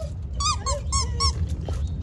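A dog gives several high, squeaky whines in quick bursts, close up, over a low steady background rumble.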